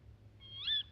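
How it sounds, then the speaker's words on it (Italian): A little owl (civetta) gives a single short, high, plaintive call at night, rising then falling, clear against a faint low background hum. "È la civetta"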